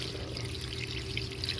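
Engine cleaning liquid poured into a car engine, a soft continuous trickle of fluid steady for the whole brief moment, faint and close with a low background hum.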